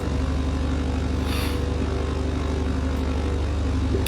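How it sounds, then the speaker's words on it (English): A propeller aircraft's starboard engine starts up in Microsoft Flight Simulator, a steady loud droning hum with a throbbing pulse, running alongside the already running port engine. "let's get the starboard engine started"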